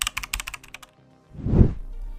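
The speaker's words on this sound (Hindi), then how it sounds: "कीबोर्ड में Shift+Delete की दबाएं" Computer keyboard keys clack in a quick burst of about ten presses as Shift+Delete is used, followed by a brief muffled thump, close and clear with no talking.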